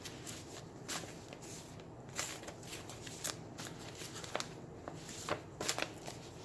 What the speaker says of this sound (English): This is a homemade deck that I've been making, and I just kind of close my eyes and shuffle it.